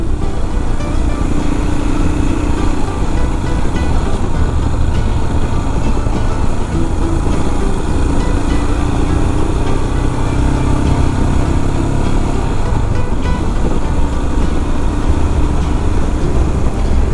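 A motorbike engine chugs steadily and loudly throughout while riding along a leafy country lane near Ramsbury, with constant engine and wind rumble and no talk.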